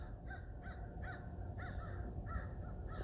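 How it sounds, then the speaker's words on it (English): Several crows caw repeatedly in the distance in a courtyard garden in Santa Fe, harsh calls coming in irregular bursts over a steady background hum. "you can hear the crows."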